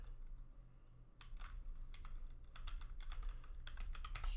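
Someone types a password on a computer keyboard, producing a quick, irregular run of soft key clicks close by after a quiet second, with faint room hum underneath.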